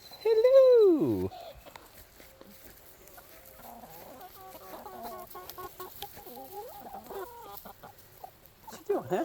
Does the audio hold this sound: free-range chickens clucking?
yes